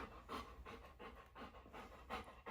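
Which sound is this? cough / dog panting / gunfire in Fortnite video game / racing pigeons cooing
dog panting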